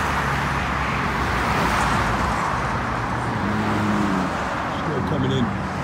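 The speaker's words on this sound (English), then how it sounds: "Now, on the eastbound traffic side, all the cars that just passed are passing us now." Cars on the eastbound side of East Colonial Drive rush past one after another in a steady broadband roar of traffic, loud and close, with someone talking over it.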